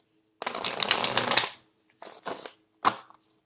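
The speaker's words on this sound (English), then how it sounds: "the cards are very thick and stiff, so it's really hard to shuffle." A new deck of thick, stiff cards is riffle-shuffled up close: one long, crisp flutter of about a second, then two shorter riffles and a final brief snap.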